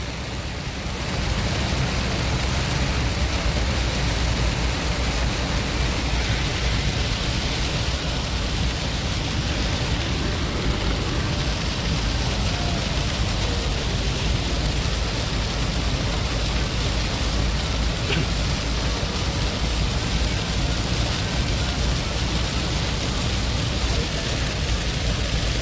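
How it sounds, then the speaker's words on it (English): Heavy rain pounding on a moving car, a steady, dense hiss that stays loud and unbroken throughout with no talking. "A lot of rain, folks."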